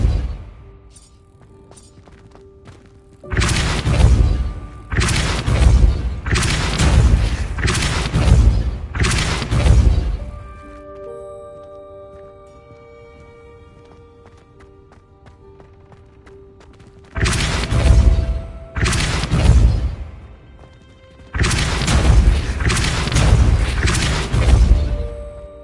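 Repeated forceful Depulso spell blasts in Hogwarts Legacy, heavy booming bursts arriving in two clustered volleys separated by a quiet stretch with faint tonal ambience.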